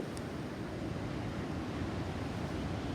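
Ocean waves wash onto a beach in a constant broadband roar, close and steady, with wind in the mix and no voices.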